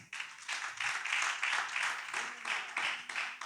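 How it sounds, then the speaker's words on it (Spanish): A church congregation claps together for several seconds in steady, dense applause at moderate loudness, with a few faint voices and cheers mixed beneath the clapping. "Denle un aplauso a Dios."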